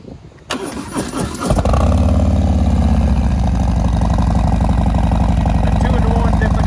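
A 2019 Harley-Davidson FXDRS with a Stage IV 131ci big-bore engine and 2-in-1 exhaust cranks, catches and settles into a loud, deep, lumpy idle that rumbles close by and steady.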